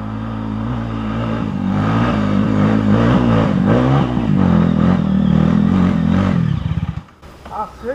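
Honda Tornado 293cc dirt bike revving hard on a trail, a loud, close, sustained engine drone with rising and falling throttle surges, then cutting off abruptly near the end, with a few faint voices after.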